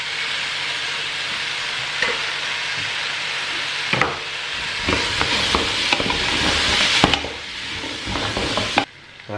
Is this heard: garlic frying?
yes